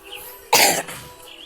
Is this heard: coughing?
yes